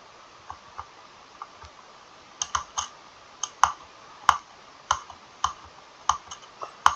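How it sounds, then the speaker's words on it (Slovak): A computer keyboard clicked during a game of Roblox, sparse sharp keystrokes spaced irregularly over a steady low background hum, close and moderately loud, with no speech. "Mám asi veľmi veľa počuť tú klávesnicu."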